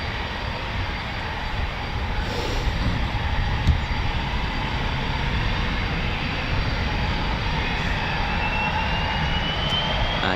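Eurofighter Typhoon FGR4 jets at RAF Coningsby running their EJ200 engines, a loud, steady, close roar of turbine noise that holds unbroken for the whole stretch with no voices.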